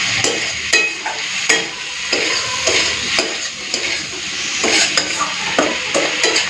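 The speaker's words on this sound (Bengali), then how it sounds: "দিয়ে দিচ্ছি ভেজে রাখা চিংড়ি মাছ। তো ভালো করে মিশিয়ে নিই।" Fried shrimp stirred into a sizzling pan of spiced taro stems, with regular spatula scrapes and clinks over a continuous close frying hiss.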